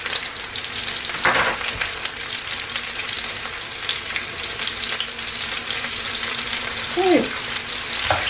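Steady, crackling sizzle of sausages frying in a pan with a little butter, with a brief clatter and a couple of faint scraping sounds.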